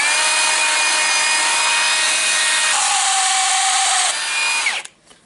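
A Milwaukee 1/2-inch cordless nut gun with a bad bearing runs loud and close with a harsh, steady whine and grinding drone, shifting pitch partway through before spinning down and stopping.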